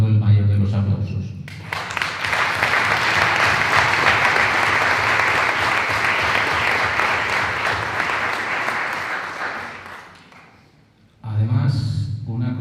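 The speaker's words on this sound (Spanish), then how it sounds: "Para todos ellos brindo el mayor de los aplausos." A seated audience at a book presentation breaks into loud, sustained applause that fills about nine seconds before fading out, with a voice speaking just before and after.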